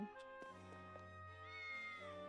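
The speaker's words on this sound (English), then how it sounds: "See, Kitty has a nice warm house to come back to." A cartoonish cat meows in a video game against a sustained, layered musical backdrop; a few short meow-like calls rise over the steady game soundtrack, moderately loud and close.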